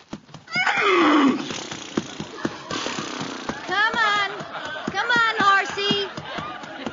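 A horse neighs loudly near the start, a long whinny, while a milkman's horse pulls a sleigh through the streets; people talk over it for the rest of the stretch.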